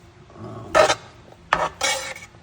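Ingredients such as olive oil and tomatoes being stirred together in a pan, with three short scraping, clattering bursts of a utensil against the cookware over a quiet background.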